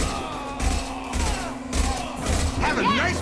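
Gunfire from the video game Mass Effect 2 on hardcore difficulty, a steady stream of shots and thuds through a dense battle mix, with a voice talking over the action.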